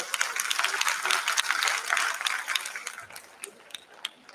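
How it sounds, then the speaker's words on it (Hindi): An audience at a Kathak classical dance performance in Gwalior claps in response to the host, a crisp, scattered patter of hands that swells and then tapers off, heard without voices. "जरा जोरदार तालियां तो बजाइए।"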